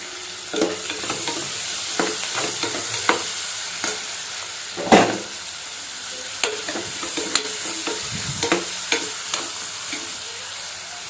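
Chopped onions sizzle steadily in hot oil in a pan while a spoon scrapes and stirs them in frequent clicks and knocks, up close, during preparation of palak paneer rice.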